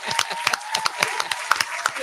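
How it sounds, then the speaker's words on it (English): Scattered hand claps, a few sharp slaps at an uneven rhythm close by, mixed under excited overlapping talk between women. "I'm going to clap for y'all."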